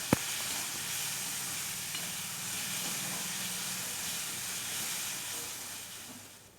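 Tomato pieces with a teaspoon of salt sizzle steadily in a hot pan for sabudana upma, a continuous soft hiss with a brief clink at the start and no voice.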